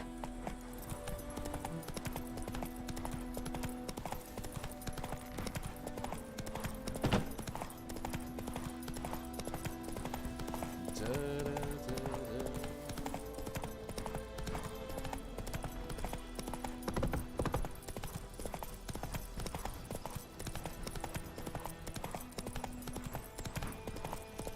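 Roach the horse galloping in The Witcher 3, a steady, continuous drum of hoofbeats close by, running alongside a constant layered background of tones for the whole stretch.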